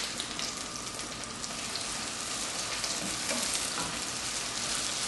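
Matzo brei sizzles and crackles steadily in a frying pan, a dense, continuous frying hiss that stays loud and even throughout with no talking.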